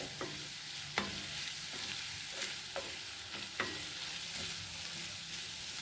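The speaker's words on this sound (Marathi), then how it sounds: "आता हा खमंग वास येईपर्यंत आपल्याला हे भाजायचं आहे लसूण खोबरं आणि आलं" Garlic, coconut and ginger roasting in a pan for aloo mutter bhaji, a steady soft sizzle with a few sharp spoon taps against the pan, close and without talk.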